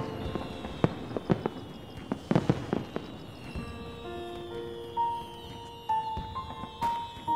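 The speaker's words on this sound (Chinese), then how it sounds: "烟花声和雷声好像啊！" Fireworks going off outdoors at a festive night display, a rapid series of sharp cracks and bangs followed by whistling, rising bursts, moderately loud with no speech.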